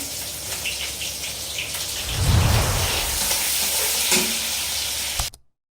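Onions hiss and sizzle in hot oil in a pan while cooking for kabuli chana, a steady crackling fry that swells louder as they drop in, then stops abruptly.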